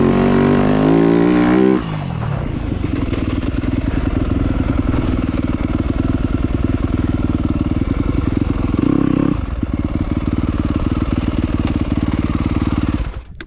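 A 2025 Yamaha YZ250F dirt bike rides past loud and close, with a rough, droning four-stroke exhaust note and a faint whistle from the exhaust, after a brief higher rev at the start.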